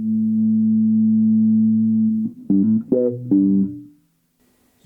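Bass guitar played through an MXR M82 envelope filter pedal, a loud sustained low note followed by several quick plucked notes with a rounded, vowel-like filter sweep, then a brief silence.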